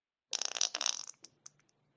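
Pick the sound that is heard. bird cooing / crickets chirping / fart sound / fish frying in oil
fart sound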